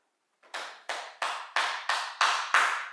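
Seven sharp, evenly spaced claps from a single pair of hands ring out close by after a brief silence, each one crisp and slightly louder than the last.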